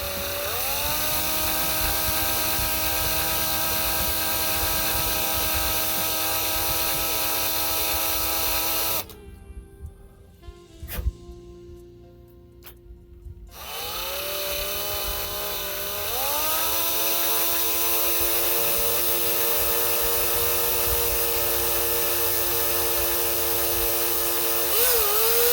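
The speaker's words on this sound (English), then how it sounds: "we're going to take this little bitty bit and we're going to just barely get us a whole pilot hole started" A power drill with a very small bit starts a pilot hole during a wheel swap, whining steadily and close, then stops for a few seconds of quiet clicks and handling before the motor spins up again.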